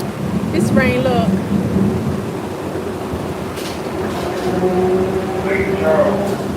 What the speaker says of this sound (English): This rain, look.